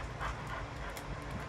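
A puppy pants close by in quick, soft breaths, with faint whimpering mixed in over a low, steady background hum.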